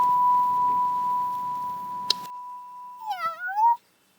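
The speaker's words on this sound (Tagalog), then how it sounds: "Parang may nakapasok na pusa." A cat meows in a house: a steady electronic tone runs underneath, then one rising, drawn-out meow comes up close and fairly loud before silence.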